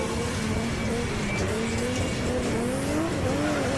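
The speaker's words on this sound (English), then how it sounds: "Drew smoking the tyres already on the back of that R34" Tyres squeal loudly and continuously on a Nissan R34 drift car at a Driftland championship battle in Scotland, with engine roar beneath and the squeal wavering in pitch as the car slides, close and dense throughout.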